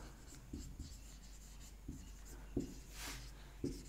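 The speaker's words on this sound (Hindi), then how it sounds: "फिफ्थ पॉइंट मैं यहाँ पे लिख देता हूँ" Chalk or marker writing on a classroom board makes soft scratchy strokes with a few sharper taps, close and quiet, spread over a few seconds with no talking.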